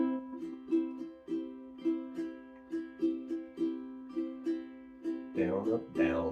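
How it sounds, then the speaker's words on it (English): Ukulele chords strummed in a calypso or island pattern, down down up down up, with bright, even strokes repeating in a steady bouncing rhythm, close and alone, finishing on a busier flourish. "Otherwise known as a calypso strum or the island strum they call it"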